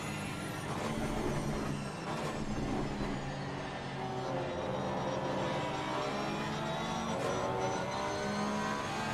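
An Aston Martin and a Porsche race car roar down the straight at Suzuka in a racing video game, their engines a steady high-revving drone with shifting pitch and gear changes, loud and continuous.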